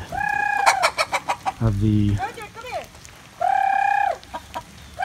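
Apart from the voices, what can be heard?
chickens clucking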